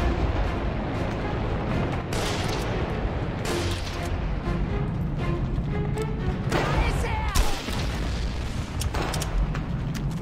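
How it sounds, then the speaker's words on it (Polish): Explosions and gunfire in the shooter game Enemy Front, repeated loud booms and bursts over continuous battle noise, with no talk over it. "Wybuch, eksplozja, jak w Call of Duty."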